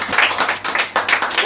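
A church congregation claps together in praise of the Lord, a dense burst of many hands close by with a rough, uneven rhythm over about a second and a half.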